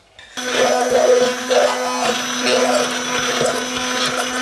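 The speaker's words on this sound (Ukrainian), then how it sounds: "беремо в руки блендер і робимо однорідну масу" An electric hand blender starts up and whirs steadily, its motor pitch wavering slightly as it purees a thick mixture of cooked peas, with no voices.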